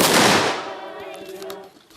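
A single loud rifle volley cracks at once and echoes away at a military reburial ceremony, fading into a long reverberant tail outdoors.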